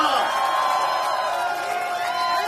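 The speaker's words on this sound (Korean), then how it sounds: "다시 한번 큰 박수와 함성을 부탁드립니다" Outdoor political campaign rally crowd in Seoul's Gangdong district roaring and cheering in a steady, dense wash of voices and whoops, with an amplified announcer's voice carrying over the noise.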